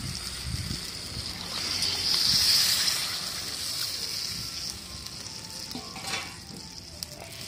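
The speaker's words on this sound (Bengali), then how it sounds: "পনির আর জল একসঙ্গেই দিয়ে দেবো।" Paneer and water tipped into a frying spice paste for a potol paneer curry, raising a louder hiss that swells then settles into a steady, fairly soft sizzle with occasional faint stirring knocks.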